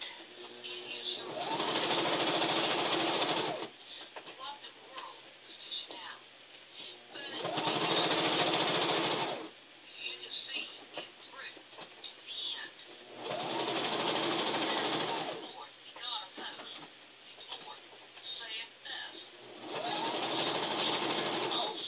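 A sewing machine stitches a log cabin quilt block in four separate runs of fast, close mechanical whirring, with someone talking quietly in the pauses between them.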